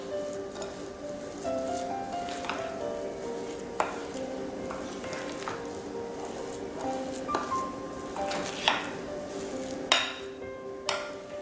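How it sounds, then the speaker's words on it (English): A spoon stirs ingredients in a mixing bowl set on a towel, soft scraping with scattered light clinks and a few sharper knocks against the bowl, close and fairly quiet. "I'll stir this up"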